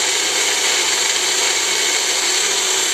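A blender mixing pumpkin pancake batter whirs steadily at high speed, a loud continuous hiss-like motor drone with no pauses.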